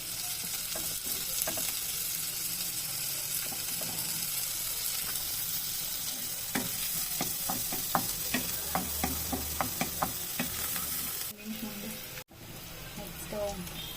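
Spring onions and marinated garlic with chilli flakes fry in butter in a pan, a continuous low sizzle broken by a run of sharp spatula scrapes and taps against the pan midway, with faint background noise.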